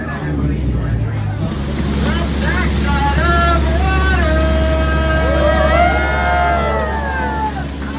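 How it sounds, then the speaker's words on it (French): A boat motor drones across the water at Magic Kingdom, with waves and wind buffeting the microphone, while voices chatter in the background. "Notre bateau arrive"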